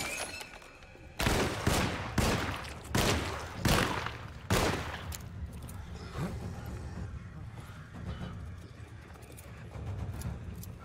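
Gunshots in the survival-horror video game Alone in the Dark, six loud, evenly spaced shots in quick succession, each with a short echoing tail, followed by quieter rumbling ambience.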